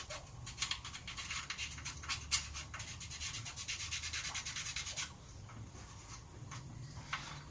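Rapid back-and-forth scrubbing with an abrasive cleaner, a steady gritty rasping that runs for about five seconds, then eases into lighter, intermittent rubbing strokes close to the surface.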